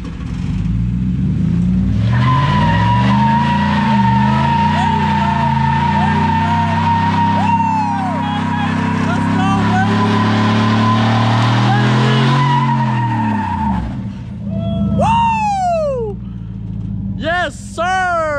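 A car doing a burnout, its engine revving hard under load while the tires squeal loudly and continuously for about ten seconds, then wind down, followed by a few short chirps.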